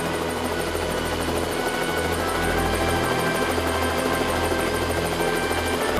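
A helicopter flies with a steady, rapid rotor chop and a droning engine hum, moderately loud and continuous, with no voices.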